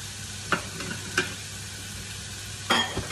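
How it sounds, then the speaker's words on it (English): Mushrooms tossed into a Thermomix bowl for fried rice, giving a steady close sizzle with a few sharp stirring scrapes and clatters spaced through it. "I'm going to chuck those mushrooms in"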